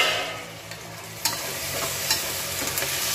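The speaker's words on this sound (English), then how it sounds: "To this now I am adding some tomatoes." Carrots, beans, capsicum, potato, onions and freshly added tomatoes sizzle in a hot pan, a continuous bright frying hiss broken by several scraping knocks of a spoon stirring the vegetables.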